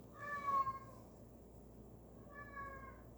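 Two cat meows, one at the start and another about two seconds later, fairly faint over a low steady background hum.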